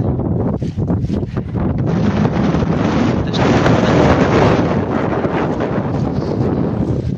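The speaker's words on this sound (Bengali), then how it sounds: "অনেক বাতাস বইছে।" Strong wind buffets the microphone aboard a fishing boat in the Sundarbans before rain, a loud, steady broadband roar that fills the whole stretch with no speech.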